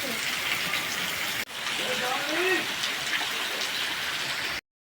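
Steady hiss of heavy monsoon rain pouring down in a Gujarat village, broken by a brief gap, with a voice speaking faintly over the downpour.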